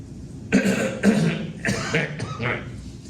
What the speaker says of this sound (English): I cough sometimes